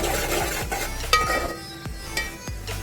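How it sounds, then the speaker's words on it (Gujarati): Onion and garlic sauté in hot oil while a spatula scrapes and knocks against the pan in several sharp strokes over a soft sizzle, close by with no talking. "થોડીક વાર ડુંગળીને સાતળવા દઈશું."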